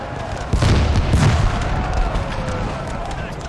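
Artillery and howitzer fire in a grand battle video game, with heavy booms and a rolling barrage beginning after a moment and continuing in a dense, loud rumble, under background talk.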